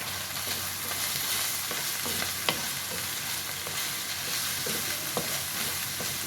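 Sausage with black pepper and paprika fries in a pan under steady sizzling, with soft scrapes and a few sharp clicks of a utensil stirring, close and continuous, no voices.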